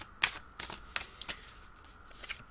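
A deck of animal oracle cards is shuffled up close, giving a few short papery riffles and slides in quick succession against a quiet background.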